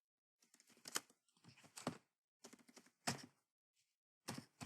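Keys on a computer keyboard are typed in short, quiet bursts with brief pauses between them, clicking close by in a silent room.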